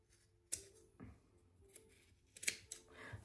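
Fabric scissors snip in small, careful cuts while trimming seam allowance close to a sewn seam, a few quiet, sharp clicks spaced irregularly and close by with no talking.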